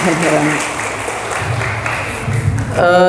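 An audience claps at an Islamic study gathering for students' parents, a moderate burst of applause that rises and falls in the middle, with someone speaking before it and again at the end.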